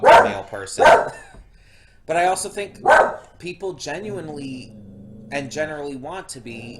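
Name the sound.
dog barking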